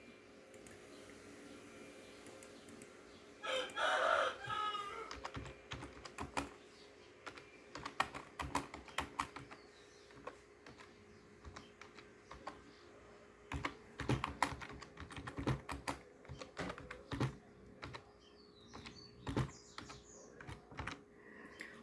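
A sentence being typed on a computer keyboard, with irregular bursts of soft, close key clicks separated by pauses over quiet room noise.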